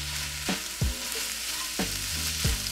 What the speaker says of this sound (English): we've been sauteing for maybe 10 minutes, maybe a little bit longer